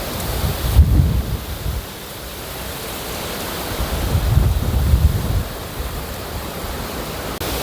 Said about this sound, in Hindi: क्योंकि आंधी आ गई, हवा बड़ी तेज़ है।